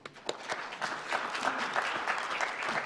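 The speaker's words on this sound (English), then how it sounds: "Please give a big round of applause to them." An audience at an international music creators seminar claps for the organisers, a dense, steady round of applause that builds quickly and holds at full strength throughout.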